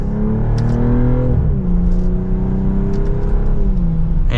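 A 2025 BMW M440i Coupe accelerates in second gear, its engine note rising steadily and smoothly with a brief dip at a quick paddle shift, heard from inside the cabin without talk.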